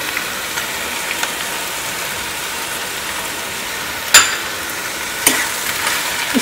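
Okra sizzles steadily in a pan over a gas flame, salted and cooked without spices, with two sharp scraping stirs cutting through the constant frying hiss.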